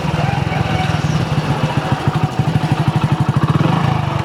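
A motorcycle engine running close by, its loud, throbbing low pulse firing in a steady rapid rhythm that grows more distinctly pulsed toward the end, with no voices over it.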